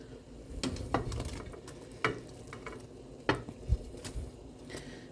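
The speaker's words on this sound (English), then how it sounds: "you're gonna take all your meatballs and you're gonna put them back into the sauce" Meatballs stirred back into a sour cream sauce in a pan, with a low steady sizzle under scattered scrapes and clinks of a utensil against the pot, close up and no talking.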